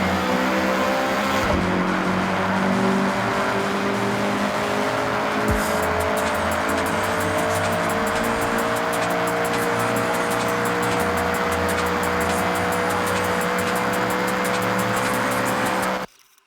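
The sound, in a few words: Honda CRX car accelerating in video game Forza Horizon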